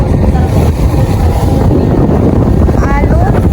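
A boat crosses a choppy sea, its steady motor drone and rushing water loud and close, mixed with heavy wind buffeting the microphone.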